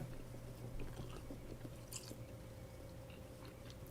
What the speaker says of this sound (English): I don't know why I'm putting gum in my mouth.